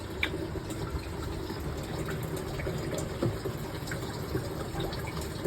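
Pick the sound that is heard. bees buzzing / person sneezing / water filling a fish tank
water filling a fish tank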